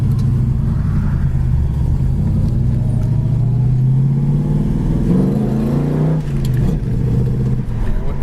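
A 1967 Ford Mustang engine idles low and steady at about 600 RPM after stopping at a stop sign, a continuous loud rumble with a slight pitch shift partway through and faint cabin hum underneath.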